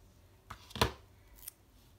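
Scissors snip through a small paper planner label, giving a few short crisp cuts with one sharp main snip, close and alone in a quiet room.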